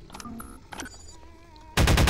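Loud burst of rapid automatic gunfire in the Half-Life 2: Episode One shooter, erupting suddenly after quieter game sounds and continuing dense and close until the end.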